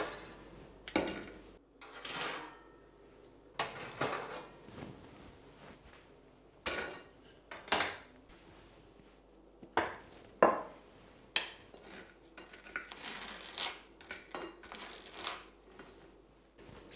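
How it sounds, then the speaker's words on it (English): Wooden tongs reach into a toaster to pull out toast, giving a series of irregular close clacks, taps and light scrapes of wood against metal spread across the span, with no talk. "The toast is not sticking out the top of the toaster, so now I can use my tongs"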